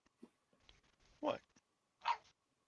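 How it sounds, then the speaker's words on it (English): A dog barks twice for a cookie, short, fairly faint yips about a second apart in a quiet room, with soft indoor sounds before them. "Bark for a cookie."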